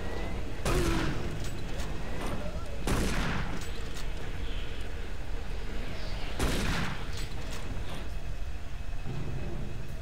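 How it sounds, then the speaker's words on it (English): Shotgun blasts in the video game Doom 3, three loud booming shots spaced a few seconds apart over a constant dense background of game ambience and rumble. "Shotgun."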